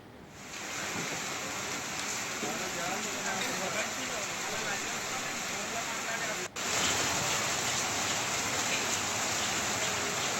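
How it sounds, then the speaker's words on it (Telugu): Steady, dense heavy rain in Telangana hisses without pause, a loud continuous wash of falling water with a brief dropout partway through. "తెలంగాణలో మరోసారి భారీ వర్షాలు కురుస్తున్నాయి"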